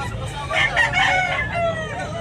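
A yellow-legged Sweater gamecock offered for sale crows once, a loud, near, drawn-out call lasting under two seconds against a steady outdoor background.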